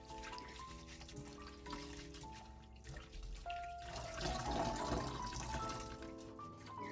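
Garlic cloves are rinsed under running water, a continuous soft trickle and splash in a sink with faint clinks, alone and quiet throughout.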